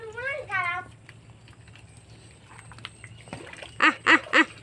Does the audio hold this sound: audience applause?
no